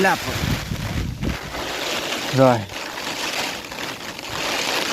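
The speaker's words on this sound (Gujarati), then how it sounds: "અઘરો પવન આવે ભાઈ, અઘરો" Strong, gusty wind sweeps across open ground in Gir during a heavy monsoon downpour, a steady broadband roar running the whole time while a voice talks over it in short bursts.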